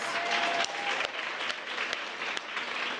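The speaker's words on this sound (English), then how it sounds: "shall we have a little round of applause?" Studio audience applause fills the room, a dense sustained round of clapping close and steady with a few sharp louder claps standing out, no talking over it.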